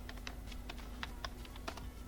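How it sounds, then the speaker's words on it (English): Keys tapped on a computer keyboard to enter a password, a quick irregular run of light clicks with brief pauses, fairly faint over a steady background hum. "Key in the password ASAP."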